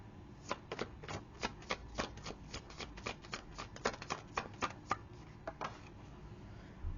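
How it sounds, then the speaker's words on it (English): A tarot card deck is cut and shuffled by hand, giving a run of crisp, evenly spaced riffling snaps and taps, close and fairly quiet, that taper off toward the end with no talk over them. "Oh, cut the deck. Gotta cut the deck."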